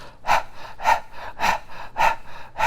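Five sharp, forceful exhalations through the nose, pumped from the navel, in a steady rhythm, close and breathy with short pauses between.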